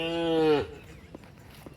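A single cow moos loudly and close by at Varanga Jain Basadi, a long low call that fades out, followed by faint background noise.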